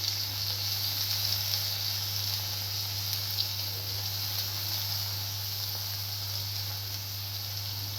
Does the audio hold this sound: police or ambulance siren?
no